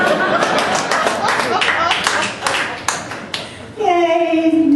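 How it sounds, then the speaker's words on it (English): Audience clapping and light laughter at an improv comedy show, a dense burst of applause that thins into scattered claps, then gives way to a voice. "Many applause, Brent."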